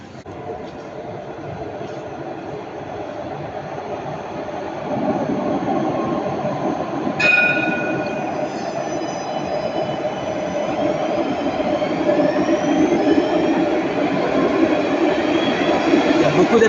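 Metro train number 050 pulling into Jean Médecin station in Nice, a steady rising rumble of wheels and motors with a brief squeal and signal tones partway through, growing louder as it arrives.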